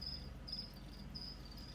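Crickets kept as live food for a pet desert scorpion chirp in steady repeated trills, close and fairly faint, against a low background hum.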